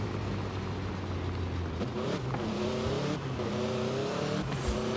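A car drifts in the video game Forza Horizon 5, its engine droning steadily as pitch rises and falls with revving, and brief tire squeal is layered over the loud, continuous motor sound.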